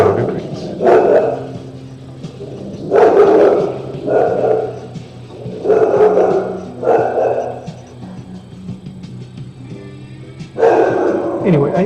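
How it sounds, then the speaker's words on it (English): A dog barks in repeated loud, close bursts roughly every second or two, with a person speaking at times during the barking. "My dog agrees."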